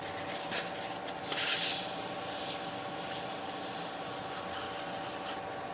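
Fine-grit sanding of a turned wooden shot glass spinning on a lathe, a steady close hissing rub that swells after the first second and holds continuously to the end.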